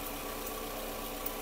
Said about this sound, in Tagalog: Oh. Pati yung tunog ng makina, ang ganda.